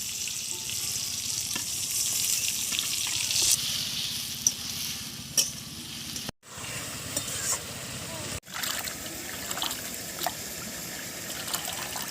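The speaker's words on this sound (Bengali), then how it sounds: "মশলাটা কষানো হয়ে গেছে" A steady sizzle of spice paste frying in a pan with eggplant and bata fish, with occasional stirring scrapes and a couple of brief dips in the hiss.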